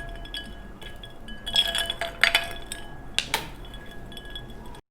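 Ice cubes dropped into a glass jar with cut mango and sugar for mango juice, giving a few bright clinks and clatters in a short cluster, close and moderately loud.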